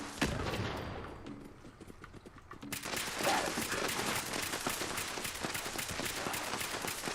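Gunfire from a rifle with a scope in Fallout 76, rattling in dense, rapid bursts that fill most of the stretch at close range, louder after the opening few seconds, with no voices.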